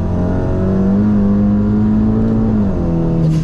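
A Golf GTI MK7 Stage 4 car accelerating hard, its engine note rising and holding steady at high revs before easing off, loud and close from inside, with no one talking.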